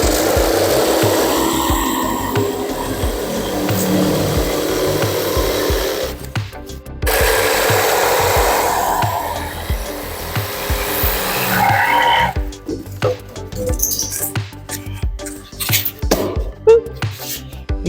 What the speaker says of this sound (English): But I'm going to go with the jigsaw,